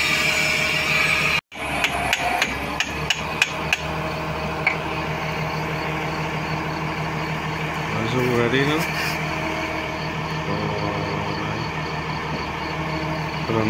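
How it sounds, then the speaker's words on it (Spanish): Percussion hammers on a drilling rig pound while boring a test well for water, a string of sharp metallic knocks over a steady machine drone, with voices talking in the background. "Los martillos."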